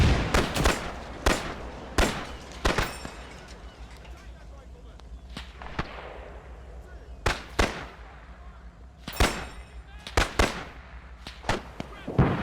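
Sharp, loud blasts of tank fire and explosions in an Arma 3 beach landing battle, arriving in irregular bursts with echoing tails and some spaced single shots across the stretch.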